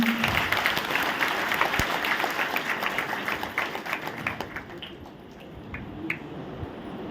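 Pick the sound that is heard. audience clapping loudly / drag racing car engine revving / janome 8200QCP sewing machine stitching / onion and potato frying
audience clapping loudly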